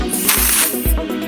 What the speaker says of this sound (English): The best way to remove residue from that sticky stuff is WD-40